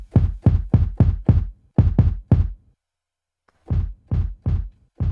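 Punchy drum sample with a fast, hard attack, played from a sampler as a rapid run of identical booming hits in groups, a short silent gap, then more hits, loud and clean.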